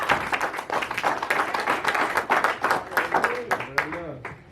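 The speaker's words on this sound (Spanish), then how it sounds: "Denle un aplauso a Cristo más fuerte." A church congregation claps together in a moderate, uneven burst of applause with distinct individual claps, some voices audible through it, tapering off toward the end.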